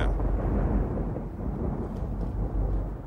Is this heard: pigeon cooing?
no